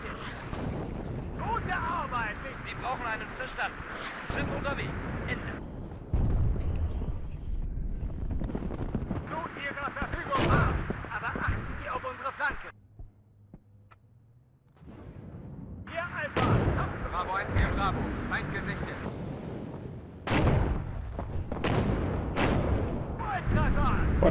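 Artillery barrages and explosions in the Cold War strategy game WARNO, during the fight for Domažlice, boom and rumble in heavy sustained bursts with a brief lull midway, while someone talks over the fire.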